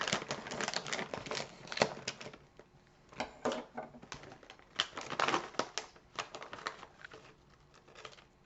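Crisp crinkling and snipping of a plastic snack bag being cut open with scissors, a run of irregular rustles and clicks close by, with short pauses between bursts.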